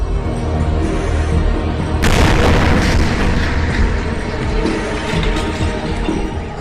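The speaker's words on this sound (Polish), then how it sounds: "seria silnych eksplozji, której towarzyszył przeraźliwy huk i oślepiający błysk światła" A meteor explodes over the Ural mountains near Yekaterinburg and Magnitogorsk: a sudden powerful boom bursts out after a stretch of low rumbling. It is followed by a sustained, loud roar that slowly fades.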